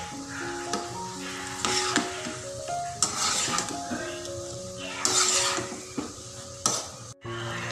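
Desi eggs and fried soya beans are stirred in a hot pan, a steady sizzle running beneath repeated scraping spoon strokes and occasional metallic knocks against the pan, with faint background sounds.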